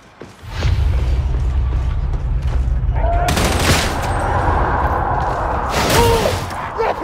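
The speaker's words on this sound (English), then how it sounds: "Oh, rapid fire!" Rapid autogun fire in a hi-intensity, Damnation-difficulty solo co-op shooter match, sustained and dense from the first second, with heavier bursts and booms near the middle and end over constant battle noise.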